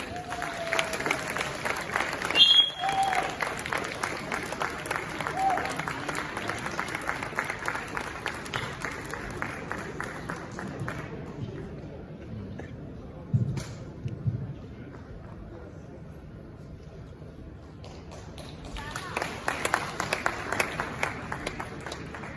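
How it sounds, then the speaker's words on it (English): An audience applauds at the Ghana Journalists Association awards ceremony at Manhyia, with a stretch of steady clapping, a quieter lull, then another bout of clapping. "And now with another big round of applause, please help me welcome from Joy News of the Multimedia Group, Asant"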